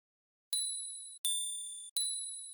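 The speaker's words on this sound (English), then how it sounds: "Then I added this bell, this is also from the Melody Mania multi-kit." Synthesized bell from a Melody Mania multi-kit, played dry in FL Studio: three clean, bright bell strikes about 0.7 seconds apart, each a sharp ding with a sustained ringing tone that decays slowly, alone with no other sound.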